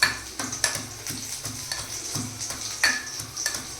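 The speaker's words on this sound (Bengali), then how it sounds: "কড়াইতে সর্ষের তেলের মধ্যে দাও 2টো পেঁয়াজ এবং পেঁয়াজ ভাজতে থাকো" Onions fry in mustard oil in a wok for a black sesame chicken dish, a soft sizzle punctuated by regular scraping stirs of a spatula against the pan, close and clear.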